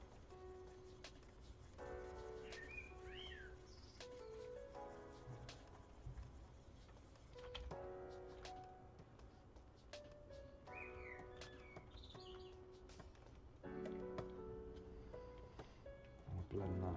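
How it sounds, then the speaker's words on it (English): Small birds chirp and call intermittently outdoors through the background, with occasional soft cooing, faint and steady beneath ambient room noise. "Birds are a bit noisy, aren't they?"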